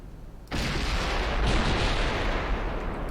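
Naval guns of warships and heavy cruisers in an Ultimate Admiral Dreadnoughts battle erupt in a sudden loud salvo that continues as a sustained roaring barrage of overlapping booms, close and dense, with no voices.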